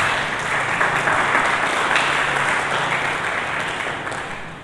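Church congregation applauding during a sermon, a dense, loud, continuous roar of many hands clapping that holds steady and then tapers slightly at the end.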